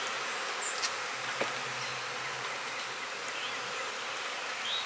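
Honey bees buzz around a hive as a close, steady drone, with individual bees occasionally zipping past.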